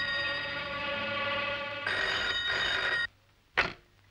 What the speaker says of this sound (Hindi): शायद गायत्री का फोन हो।